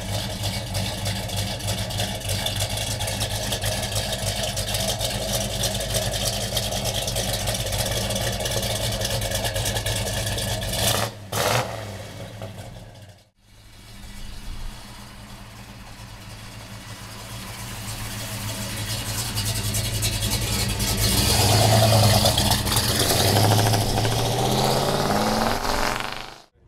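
A 1966 Chevrolet Chevelle with a big block V8 and four-speed idles and rumbles through its exhaust, a steady deep burble close by, briefly cut off before resuming and swelling louder toward the end.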